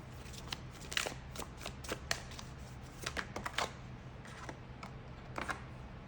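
Tarot cards are shuffled by hand in quick riffling bursts, crisp papery flicks and taps coming close and clear against a quiet room, with no talking.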